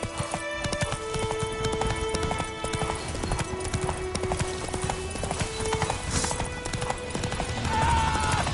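Roach, Geralt's horse in The Witcher 3, gallops steadily in a fast repeating hoof rhythm, loud and close, with game music and ambience running underneath and a brief whinny near the end.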